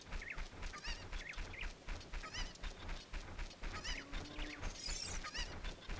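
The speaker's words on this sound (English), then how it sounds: "Chicken!" Chicken clucks from The Legend of Zelda: Ocarina of Time sound in quick repeated honking bursts, fairly faint, over a steady game background.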